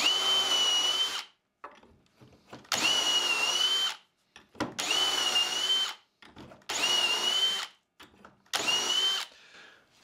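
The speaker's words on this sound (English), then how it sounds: "Got the drill with the stop collar in place" A power drill fitted with a stop collar bores dowel holes through a Dowelmax dowel jig in five loud, even bursts of about a second each. Short quiet gaps between them carry small clicks and rattles as the bit is backed out.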